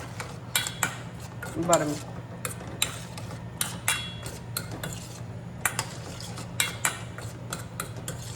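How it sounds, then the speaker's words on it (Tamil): Chickpea sundal (konda kadala) is stirred and mixed in a pan, a spoon tapping and scraping in a steady irregular rhythm close by, with a brief spoken word partway through. "பண்ணிவிட்டு I'm going to mix again."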